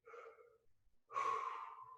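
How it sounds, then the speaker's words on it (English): Two audible breaths during a stretching exercise for lower back and hip mobility: a soft short intake, a pause, then a longer, louder deep breath in, close to the microphone and alone. "Deep breaths in."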